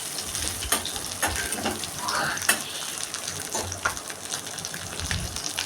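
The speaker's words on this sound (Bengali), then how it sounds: "ছোট কড়া বসিয়ে দিয়েছি, তার মধ্যে পেঁয়াজ রসুন দিয়ে ভেজে নিচ্ছি ভালো করে।" Onion and garlic frying in a small wok, a moderate steady sizzle broken by intermittent stirring scrapes and soft crackles.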